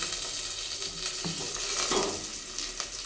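Curry leaves dropped into hot oil over browned onions, giving a steady close sizzle with a few stirring scrapes and clinks.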